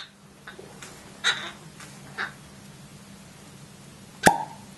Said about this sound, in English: Let's get a little bit of cork action going.